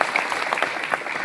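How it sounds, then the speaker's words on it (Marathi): Brief burst of audience clapping at a bank staff meeting in Jalna, a moderate, steady patter of hands heard at mid distance. "तुम्ही एकजार आमच्या सर्व या कर्मचाऱ्यांबद्दल जोरदार टाळ्या वाजवून त्यांचं"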